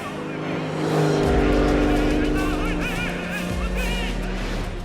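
A Ferrari race car roars through a movie race scene, its engine note rising and swelling up close alongside other cars, with horn-like tones and a voice talking over the racing.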